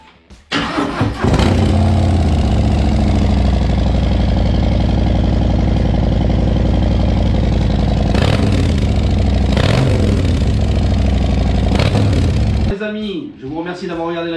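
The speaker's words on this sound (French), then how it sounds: "le démarrage de cette Harley avec les nouveaux échappements mini grenades" A Harley-Davidson Street Bob 107 fitted with mini grenade exhausts cranks and fires up, then holds a loud, throaty, lumpy idle up close with a few sharp throttle blips before shutting off.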